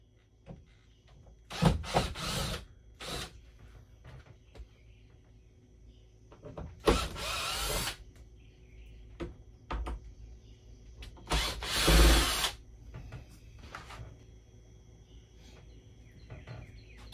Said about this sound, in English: We're going to just take this single plastic cover down with those 3 screws.